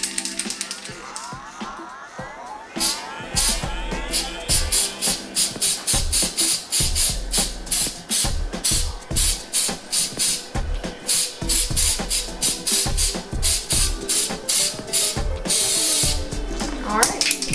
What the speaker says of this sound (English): We're going to be spray painting the cake.